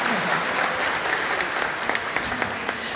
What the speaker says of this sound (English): Shall we just give a big round of applause for them